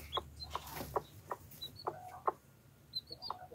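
Chickens with chicks cluck in short, quiet, scattered bursts at close range over a soft low hum, with no talking.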